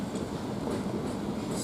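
Class 395 electric train departing Ramsgate station, a steady rumbling roll with faint clicking and a touch of high squeal, moderately close and continuous for a moment.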